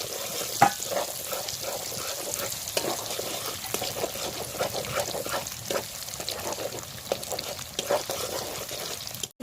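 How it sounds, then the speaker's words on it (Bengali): Beaten eggs scrambling in hot oil in a pan, a steady broadband sizzle with occasional scrape and stir clicks, close and continuous with no talk. "ডিম দুটো ফাটিয়ে দিয়ে দিচ্ছি দিয়ে ভালো করে ভুজিয়ার মতো ভেজে নিচ্ছি"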